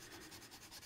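Close, steady sanding strokes rubbing a plastic part of an AMT U.S.S. Enterprise model kit warp engine flat in alternating directions, brief and fairly quiet, no voices.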